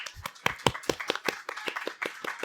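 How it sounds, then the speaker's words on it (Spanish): A small audience at a live culinary talk show applauds, the clapping sparse and uneven, made up of distinct individual hand claps heard close and fairly quiet. "si le podemos dar un aplauso"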